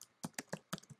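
Five or six separate keystrokes typed on a computer keyboard, crisp close taps at an uneven pace, alone without talk.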